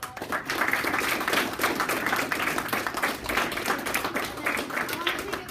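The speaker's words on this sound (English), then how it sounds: "can we give Will a round of applause?" An audience applauds, a dense steady wash of many hands clapping close by at an even level throughout.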